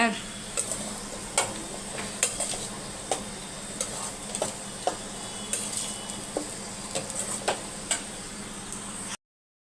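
Cooled rice being stirred into a pan with spices for lemon rice, giving repeated scraping and stirring clacks over a steady low sizzle, close and moderately loud.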